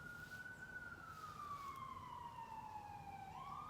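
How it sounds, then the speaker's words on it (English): An emergency vehicle siren wails in the distance, one long slow tone that glides gradually downward, faint and steady over a low background rumble, with no voices. "Do you hear the sirens?"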